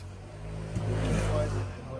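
A car drives along with a low, steady engine and road rumble heard from inside, briefly swelling over two seconds, while a person speaks over it.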